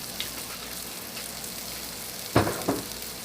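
Meat sauce with dry red cooking wine added simmers with a soft, steady sizzle, broken by a couple of sharp clacks from a spoon stirring the pot.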